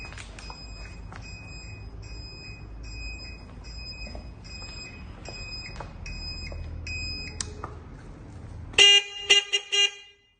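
A horn on a new electric tricycle sounds in a long run of evenly spaced electronic beeps, then a louder, different tone blasts several times near the end, fairly close with no talking.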